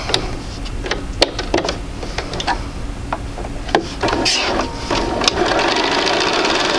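A sewing machine stitches a quarter-inch quilt seam in short bursts, its rapid mechanical whir rising and falling with scattered clicks and taps, close and fairly loud.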